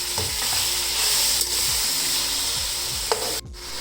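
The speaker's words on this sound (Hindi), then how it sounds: "ये जो मैंने चिकन को मैरिनेट करके रखा हुआ था, ये इसमें मैं डाल दूँगी और अच्छी तरह इसको करूँगी मैं फ्राई तकरीबन 10 मिनट के लिए" Marinated chicken with garlic sizzles steadily in hot oil, close and loud, while a utensil stirs and scrapes the pan in repeated strokes, ending with a sharp clank.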